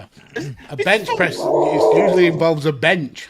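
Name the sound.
dog growling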